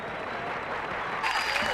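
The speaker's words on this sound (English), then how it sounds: "How about a nice round of applause for Mr. Bill Hicks?" Steady, dense audience applause at a stand-up comedy show in Austin as comedian Bill Hicks is welcomed to the stage, swelling slightly louder toward the end.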